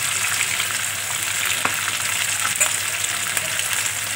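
Pieces of hilsa fish fry in hot oil with a close, steady crackling sizzle and scattered small pops, without any talk.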